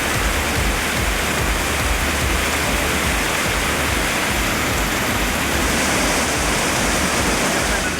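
Heavy rain pours steadily in Kanyakumari district towns such as Kuzhithurai and Marthandam, where water collects in low-lying spots. The rush is dense and loud, with no talk over it.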